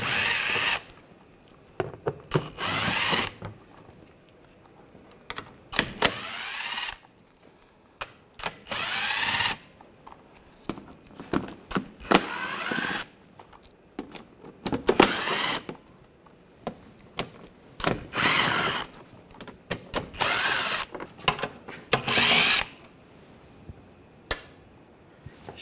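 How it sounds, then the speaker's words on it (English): A power drill with an 8mm socket backs out the screws on a panel of a 2009-2010 BMW 535i xDrive, sounding as repeated short whirring bursts of a few seconds each, separated by quiet pauses, close by. "We're going to remove this panel, use an 8mm socket,"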